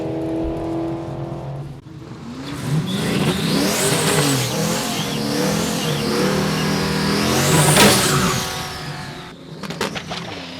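A turbocharged 6.2 Raptor drag race car with a stick shift and an 80mm turbo revs hard and loud, its engine note climbing and falling in repeated surges before peaking and cutting off near the end.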